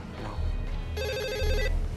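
A telephone bell rings in a short electronic trill, fairly clear over a low rumbling background, with no talking during the ring.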